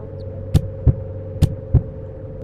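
Heartbeat sounds in the Animal Hospital video game: four dull, close thumps in two pairs over a steady background hum, with no one talking.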